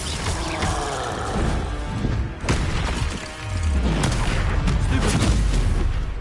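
Repeated spell blasts from Confringo casting in Hogwarts Legacy, dense booming and crashing impacts with shattering debris that sound loud and continuous, with low thuds through the clip.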